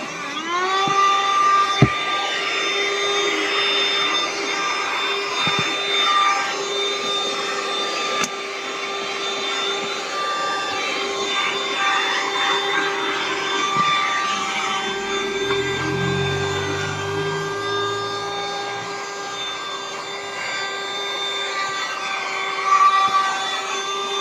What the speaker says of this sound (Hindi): आपको सिर्फ ये घुमाना है और बस वैक्यूम क्लीनर सारा काम कर देगा